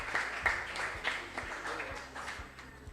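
Scattered applause from a small audience at a quiz competition, moderate and uneven clapping over a few seconds with voices speaking across it.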